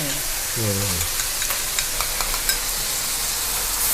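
New Zealand mussels are stir-fried in a hot pan for a spicy Thai pad cha, giving a loud continuous sizzle with scattered scraping stirs, while a voice speaks briefly near the start.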